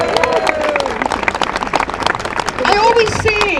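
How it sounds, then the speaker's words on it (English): Audience at an LGBT rights comedy gig outside Edinburgh's Russian consulate breaking into sustained clapping and applause, steady and near, with a voice speaking over it. "Give them a round of applause for God's sake."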